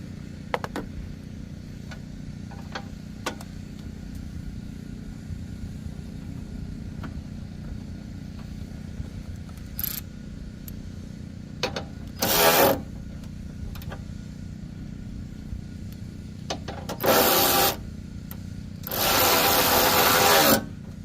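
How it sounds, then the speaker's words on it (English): A power tool tightens a 12 mm bolt on a Hyundai Elantra headlight assembly in three short whirring bursts, the last longest, over a steady low hum with scattered faint clicks. "Now what I'm going to do is I'm going to put the 12 millimeter bolt in first."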